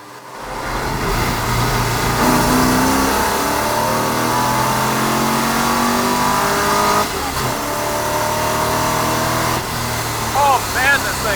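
A 1972 Chevrolet Nova's engine revs hard through rising and falling gears, its loud exhaust roaring close by and barely pausing between pulls.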